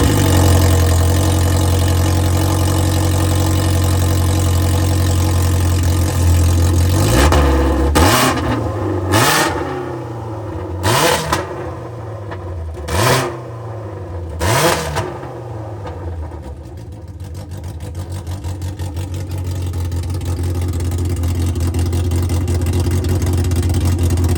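A Polaris RZR Pro R, two-liter straight four-cylinder, fitted with a GGB sport exhaust, idles loudly and steadily, then snaps through a run of five quick sharp revs with rising and falling pitch before settling back into a deep rumbling idle.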